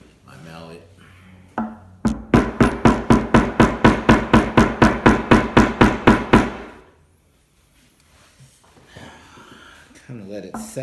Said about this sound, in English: Might try to hammer this in a little bit.